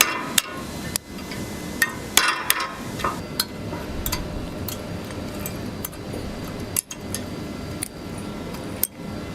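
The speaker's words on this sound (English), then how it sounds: "we're working with a hammer and chisel." Hammer striking a chisel against a milled workpiece in a workshop, a series of sharp metallic taps at irregular intervals, some clustered and some spaced out, close and crisp over a steady background hum.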